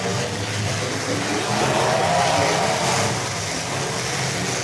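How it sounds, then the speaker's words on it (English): A demolition derby car engine roars steadily at an outdoor arena event, a dense continuous rumble and hiss with no breaks, loud and sustained throughout. "car sounds good"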